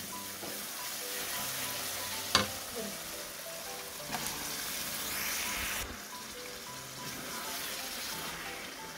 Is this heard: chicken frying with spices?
yes